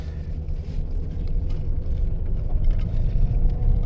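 A 2003 Ford Crown Vic on a test drive over a bumpy road, with a steady, loud low rumble of engine and road noise, plus faint knocks and rattles from the cabin throughout.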